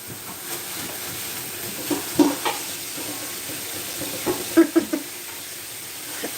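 A pot of chili with celery being stirred, a spoon scraping and knocking softly in a few bursts over a steady background hiss of simmering.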